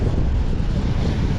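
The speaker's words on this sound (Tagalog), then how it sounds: "nandito tayo sa dagat. At malalaki yung alon." Large sea waves roll in along the Jeddah Corniche on the Red Sea coast, a steady loud wash of surf with heavy wind buffeting the microphone and no voices.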